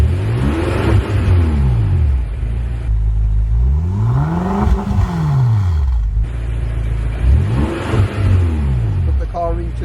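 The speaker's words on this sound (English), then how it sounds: "So let's just give it some revs." A BMW M6 Competition engine is revved three times while parked, each rev rising to a loud roar and falling back to idle between blips, heard up close.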